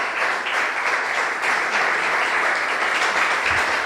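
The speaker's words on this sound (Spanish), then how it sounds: "¿Cuánto le dan un aplauso al Señor?" An audience at a church service applauding, a thick, even roar of many hands clapping together, loud and continuous from start to finish.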